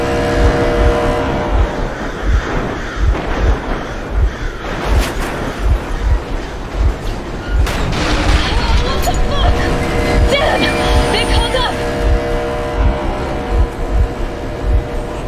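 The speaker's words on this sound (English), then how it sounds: "Stop the engine immediately and come out with your hands above your head." A vehicle engine in Metro Exodus drones steadily and loudly for the whole stretch, a continuous close rumble with faint voices underneath.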